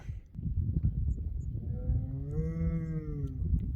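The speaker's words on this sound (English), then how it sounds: "What's that cow on about?" A cow lets out one long, drawn-out moo that rises and falls, heard fairly close over a steady outdoor background rumble.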